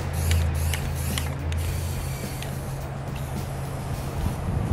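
Spray paint hisses from an aerosol can in several short bursts, fairly close and moderately loud, with a faint low hum underneath.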